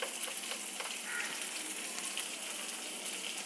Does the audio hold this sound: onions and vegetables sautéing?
yes